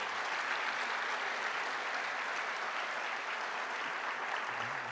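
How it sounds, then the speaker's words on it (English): Steady, dense applause from a large audience at an evening gala event, sustained evenly throughout at moderate level with no voices standing out. "I do want to ask for a round of applause to thank Dennis and Keith"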